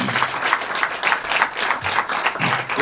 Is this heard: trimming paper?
no